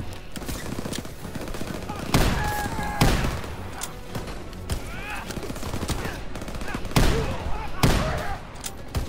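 Rapid gunfire in a World War I Call of Duty campaign, sharp shotgun blasts and bursts of machine-gun fire cracking loudly at close range, with brief gaps, battle noise and a voice talking over parts of it.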